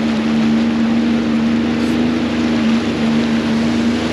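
A Sea-Doo personal watercraft rides on the Erie Canal at Tonawanda, New York, its engine holding a loud, steady hum with a strong constant tone beneath rushing water and wind noise, no speech.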